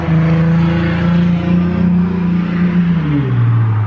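A second-generation Cummins diesel engine in a Dodge Ram runs loud and close with a steady, heavy drone, then its pitch drops smoothly near the end, with no voices.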